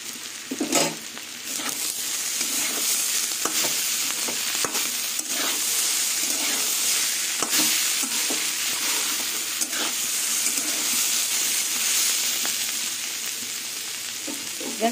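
Pointed gourd and potato pieces fry in hot oil, giving a steady, close sizzle throughout with intermittent scraping and clicking as the mix is stirred in the pan.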